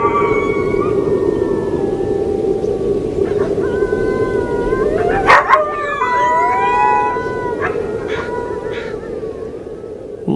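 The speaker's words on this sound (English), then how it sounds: "A low, sad whining noise came through the door." A wolf howls and whines in long, wavering, mournful tones that rise and bend, carrying above a steady low background rumble with no talking.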